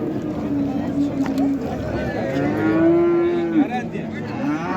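Cattle at a livestock market moo in several drawn-out calls, one long and loud near the middle, amid background chatter and crowd noise.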